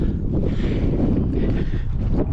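Steady wind blows across the microphone while walking down from the beach dunes toward a golf course, a continuous close buffeting rumble with no pauses and no talking.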